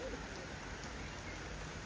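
Steady rain falls outdoors on racing pigeons, a constant close hiss of drops with no other sounds standing out.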